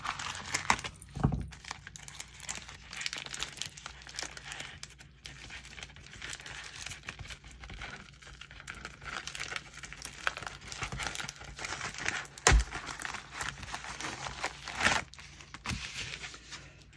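Mailed packages of Pokemon cards are opened by hand, with close crinkling of plastic and paper, scattered tearing bursts and rustling handling sounds in an irregular, ongoing stream.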